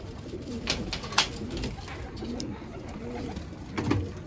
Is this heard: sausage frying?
no